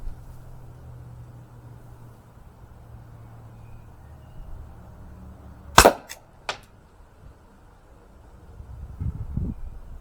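An Umarex Glock 17 Gen 5 T4E pistol fires aluminium balls at close range, with two sharp, loud cracks in quick succession standing out against quiet room noise.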